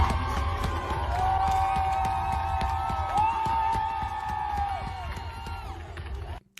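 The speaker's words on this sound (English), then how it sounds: "That sounds like a handful of people yelling." Arena crowd yelling and cheering from a handful of people, a steady mid-distance roar of voices with a sustained whoop rising and falling, continuous for several seconds before cutting off abruptly.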